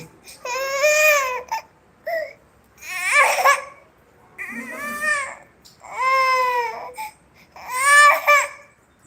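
An infant wails in five long, separate bursts, each a loud, strained cry with short gaps and small whimpers between, close and clear against a quiet room.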